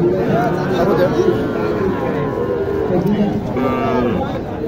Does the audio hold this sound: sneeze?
no